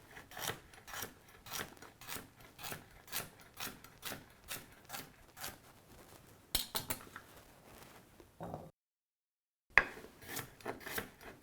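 A kitchen knife slices carrots on a cutting board in a quick, steady series of crisp chops close up, with a short silent gap near the end before a few more cuts.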